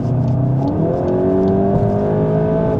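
VW Golf GTI Edition 50 accelerating hard at full throttle, a steady in-cabin engine drone climbing smoothly in pitch with a rising whine, loud and continuous without talk.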